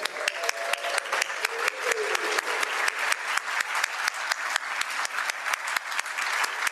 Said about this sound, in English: we will have a round of applause